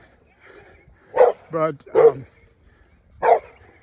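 Dogs let out a handful of short, sharp barks and yips in quick succession, then one more after a pause, fairly close, with a brief spoken word among them.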